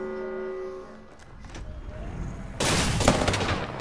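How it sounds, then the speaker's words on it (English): Gunfire in the Apex Legends video game, shots passing through walls: a loud burst of rapid shots crashes in partway through and keeps going, with softer pops and rumble before it. "they can shoot through walls now?"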